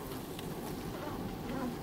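Honeybees buzzing steadily at close range, a dense continuous hum with no pauses and no voices over it.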